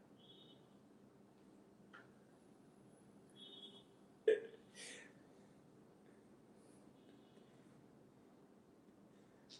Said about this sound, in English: I think he's having these hiccups.